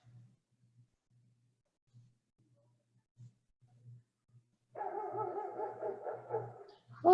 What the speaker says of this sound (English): It's not always my dogs that join in.